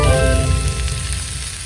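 Food sizzles loudly and steadily on a thick stainless steel teppanyaki griddle at an outdoor camping cookout, a close, dense crackling hiss with no voices.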